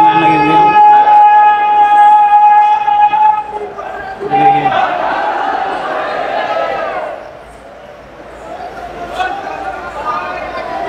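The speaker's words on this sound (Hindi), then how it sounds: "यहाँ भोले बाबा के जयकार लग रहे हैं।" Kanwar Yatra pilgrims at a crowded temple chanting Bhole Baba in unison, loud rhythmic group shouts and sustained calls rising and falling over a dense crowd murmur.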